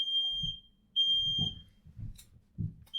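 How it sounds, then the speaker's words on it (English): Short, piercing beeps from a home fire alarm repeat about once a second, steady and fairly loud, while someone talks faintly in between. "I think that my fire alarm's going off."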